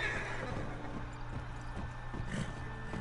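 A horse in the open-world Western game Red Dead Redemption 2 gives a shrill whinny near the start, followed by scattered hoof clops and low game ambience, with no talking.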